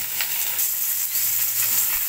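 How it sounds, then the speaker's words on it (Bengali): Onion frying in a pan over a raised gas flame for a chilli baby corn dish, giving a steady, close sizzle with faint stirring and no speech. "এবার আমি পেঁয়াজটা একটু"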